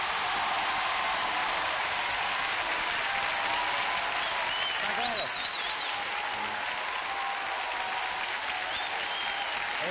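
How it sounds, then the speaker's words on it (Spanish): Studio audience applause on a Spanish game show: a dense, continuous roar of many hands clapping, loud and sustained throughout, with faint whistles and voices rising briefly in the middle. "aplausos para el tercer desafío"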